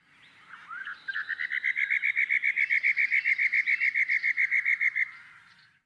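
Wild bird song with a buzzy texture, a single clear phrase of about twenty rapid, evenly spaced buzzy notes in a steady run lasting several seconds, close and prominent over a quiet background.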